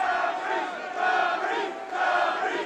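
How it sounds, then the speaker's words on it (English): Boxing crowd at a Dan Rees vs Rocky Khan bout, shouting and chanting in loud rising-and-falling waves, three surges of massed voices filling the hall. "it's difficult to tell if they're shouting Rocky or Dan Rees"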